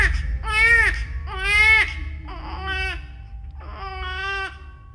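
A voice imitates a baby crying, giving several drawn-out wailing cries close up and alone, loud and strained, as part of a spoken ghost story.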